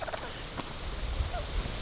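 Turkeys gobble outdoors near a creek and farm lane, brief warbling calls at middle distance over a steady wash of background noise.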